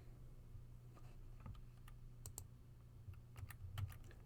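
Typing on a computer keyboard in a quiet room: a short run of soft, close key taps over a faint steady hum, irregular and growing slightly busier toward the end.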